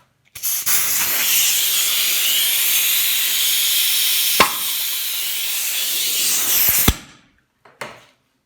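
Compressed air hisses hard into a Brembo brake caliper from a Renault Clio 3 RS or Mégane RS to push the piston out. It is a loud, steady blast lasting several seconds, broken by a sharp pop, and ends with abrupt knocks and then silence.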